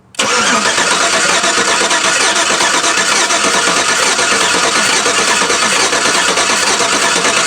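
A GM truck engine, a Tahoe/Yukon/Silverado-type V8 with a misfire, cranking over during a test: a loud, steady, rough mechanical whir starting abruptly and running unbroken, close by.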